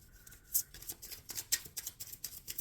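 Quick, crisp tarot card riffles and flicks close by, a rapid irregular run of sharp papery snaps with no talking.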